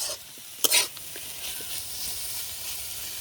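Helencha greens stir-fried in a pan give a soft steady sizzle and hiss, with one brief scrape of stirring near the start and no talk.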